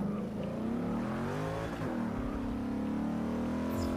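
Corvette race car engine in Forza Motorsport 6 practicing for the Rolex 24, a steady loud droning engine note that drops and shifts pitch as it downshifts, with a brief whine near the end.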